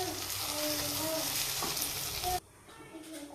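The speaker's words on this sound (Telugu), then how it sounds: "ఈ మసాలాను కూడా ఒకసారి మిక్స్ చేసుకోవాలి." Ground masala is stirred in a hot frying pan while cooking a dondakaya (ivy gourd) masala, giving a steady loud sizzle and frying hiss that stops abruptly near the end.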